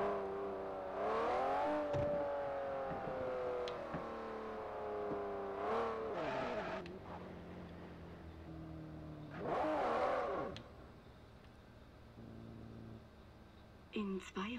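A car driving in Forza Horizon, with an engine droning and rising in pitch through a few gear changes and accelerations, fading in and out while someone talks over it.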